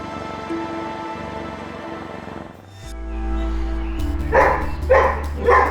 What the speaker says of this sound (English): the owners of a dog that never stops barking